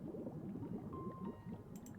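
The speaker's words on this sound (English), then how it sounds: "the sound of something bubbling" Water bubbles and gurgles in the Goddess of Victory: Nikke video game: a steady, soft, close bubbling texture that runs throughout, with a faint tonal ring and a few brief bright clicks near the end.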